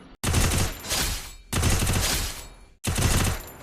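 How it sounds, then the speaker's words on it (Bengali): Gunfire from a weapon in the Free Fire video game hits training dummies in three loud, close bursts of rapid shots, with short silent gaps between them. "এখন আমি তোমাদেরকে এই পাশের পুতুলগুলোকে মেরে দেখে আমার কেমন হেডশট লাগে"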